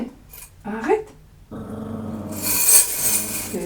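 A dog growls low and rumbling at close range, with a person's voice mixed in and a brighter, noisier stretch toward the end.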